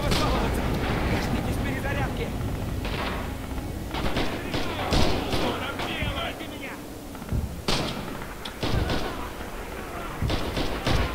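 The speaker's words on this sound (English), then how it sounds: "Enemy artillery close to H hotel." Enemy artillery fire in Red Orchestra 2 lands as repeated heavy thumps and blasts amid battlefield noise, with a voice talking over the impacts throughout.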